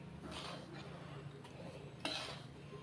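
Panjiri roasting in a pan over low-medium heat, a spoon scraping and stirring with soft metallic clinks and a faint sizzle, one sharper clink near the end, quiet and close.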